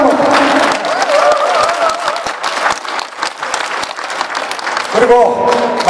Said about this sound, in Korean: 그렇게 생각하시면 박수 한번.